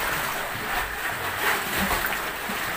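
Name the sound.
strong sea waves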